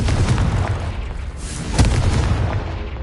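Spell explosions in the video game Hogwarts Legacy, including Bombarda blasts, rumble as a dense, loud stretch of deep booms with sharper bursts on top, one heavier impact standing out near the middle.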